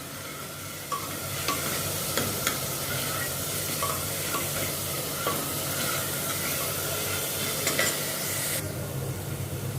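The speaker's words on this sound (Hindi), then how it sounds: "इसको पहले मैं भी थोड़ा ऑयल में सौते करती हूँ" Ginger, garlic and green chilli paste sautéing in oil, a steady close sizzle with light stirring scrapes and a few spoon clicks throughout, ending slightly quieter.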